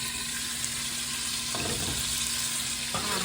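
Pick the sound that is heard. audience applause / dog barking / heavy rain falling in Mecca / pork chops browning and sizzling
pork chops browning and sizzling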